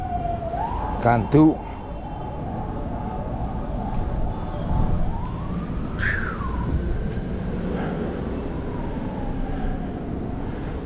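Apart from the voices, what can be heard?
ambulance siren passing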